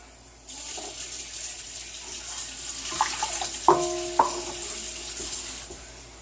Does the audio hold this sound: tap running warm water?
yes